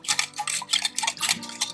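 Fresh yeast is whisked into lukewarm water in a bowl while preparing gluten-free camping rolls, producing quick, rhythmic clinking and scraping strokes of a metal whisk close by, with no voices.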